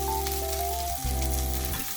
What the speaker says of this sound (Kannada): ಸ್ವಲ್ಪ ಎಣ್ಣೆಯಲ್ಲಿ ಈ ಥರ ಬಾಡಿಸ್ಕೊಳ್ಳಿ.